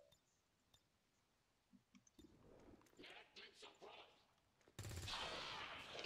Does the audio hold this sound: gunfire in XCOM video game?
yes